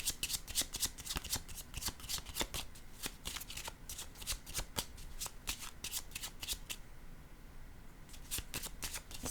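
Tarot cards being shuffled by hand for a reading: a dense, continuous run of crisp riffling flicks and slaps, close and fairly loud, with no talking.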